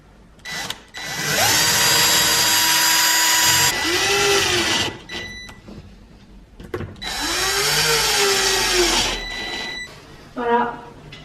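A power drill bores into a kitchen wall to mount furniture in two long, loud, close bursts of whirring with a pause between them, and people talk briefly between the runs.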